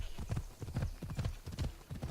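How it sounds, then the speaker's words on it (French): Horses galloping in Assassin's Creed Odyssey, with rapid, steady hoofbeats in clustered bursts that carry on without a break and sound close and fairly loud, with no talk over them. "Mais ils vont vite, ils sont assez fluides,"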